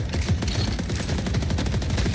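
A video game turret fires a rapid, steady stream of loud shots, dense rhythmic bursts close up and continuous for a couple of seconds without talk.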